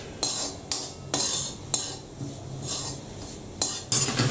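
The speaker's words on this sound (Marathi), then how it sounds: "आता हे चांगलं कोरडं होईस तोपर्यंत परतून घ्यायचं." A spoon scrapes and stirs grated coconut and jaggery in a pan, making quiet, repeated metallic scrapes at an irregular rhythm, roughly seven or eight strokes, over a faint low sizzle.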